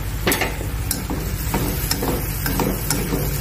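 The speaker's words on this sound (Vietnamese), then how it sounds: "Đảo cho đậu gồng với thịt nó thấm gia vị." Winged beans and pork being stir-fried in a home kitchen, a steady sizzle under repeated scraping and tossing strokes from a utensil, close and fairly loud with no talking.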